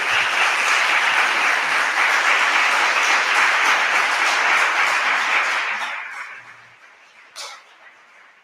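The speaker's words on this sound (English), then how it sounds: "Can we please have a big round of applause for Jason?" A conference audience at an education internationalisation event in the Canary Islands gives a big round of applause. The clapping is loud and sustained for about six seconds, then fades out, with a sharp isolated sound near the end.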